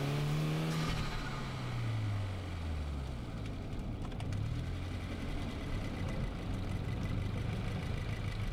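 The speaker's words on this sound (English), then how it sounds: "Trying to drive the car a little too hard, you hear all the tires squealing." A 2020 Subaru WRX pushed hard on an autocross course, its tires squealing in long sliding tones over a steady engine roar, loud and close throughout with no talk.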